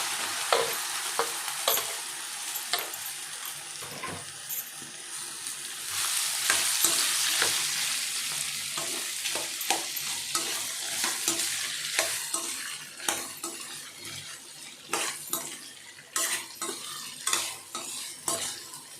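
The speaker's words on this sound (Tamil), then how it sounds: "ஒன்றோட ஒன்று ஒட்டாமல் எல்லாத்தையும் கிளறி விட்டுருங்க" Potatoes fry in oil with a pinch of asafoetida while a spoon stirs and scrapes around the pan, a crackling sizzle broken by repeated sharp scraping taps throughout, close and clear with no voices.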